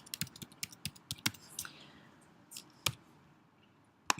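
A computer keyboard is tapped in a quick run of light clicking keystrokes, followed by a pause and then a few scattered, sharper clicks, quiet and close.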